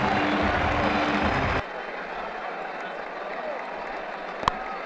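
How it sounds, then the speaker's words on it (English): A cricket stadium crowd at a 2009 IPL match between Mumbai Indians and Rajasthan Royals roars as a dense, loud wash after a six, then drops abruptly to a lower, distant hum with one sharp knock near the end. "Just listen to the crowd."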